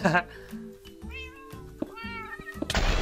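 Cat meowing in the Minecraft video game, a few short synthetic mews mixed with loud excited talk from players and bursts of game noise.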